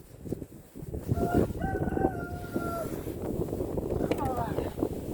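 Rooster crowing on a snowy farm during a chicken feeding in a snowstorm, two clear crows rising over a windy background with people talking nearby.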